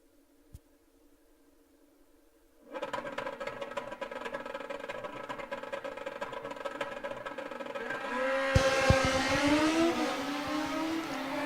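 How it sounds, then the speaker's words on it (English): Drag-racing motorcycles in a Midwest Sportsman race launch after a quiet start, their engines bursting into a loud rising roar and then screaming higher as they accelerate away down the strip. "It's a drag race"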